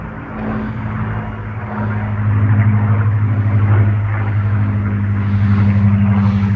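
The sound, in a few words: Supermarine Spitfire aircraft flying overhead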